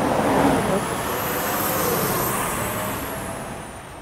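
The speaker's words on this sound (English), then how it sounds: "Sorry, garbage truck," A garbage truck rumbles past on a street, a loud broadband roar with a high whine, its engine noise swelling and then slowly easing off.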